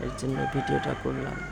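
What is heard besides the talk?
rooster crowing at dawn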